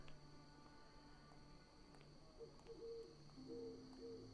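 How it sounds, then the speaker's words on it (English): An owl hoots softly in the background of a music playlist, with low repeated calls over a steady droning backdrop and faint high tones. "Oh, owl noises. How appropriate."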